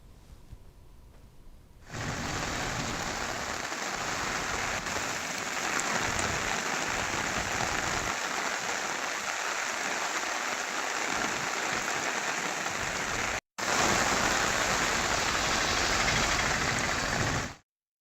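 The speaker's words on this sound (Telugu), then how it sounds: "పలు ప్రాంతాల్లో భారీ వర్షం కురుస్తోంది" Heavy rain pours in Tirupati with steady, dense hiss on roads and surfaces, starting after a quieter moment, running continuously with one brief cut before stopping.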